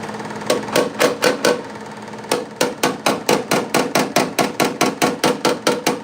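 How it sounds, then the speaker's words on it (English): A hammer taps rapidly and rhythmically on the metal quarter panel of a 1968 LeMans car body, in bursts of several quick strikes separated by short pauses, close and loud. "Let me hold the hammer."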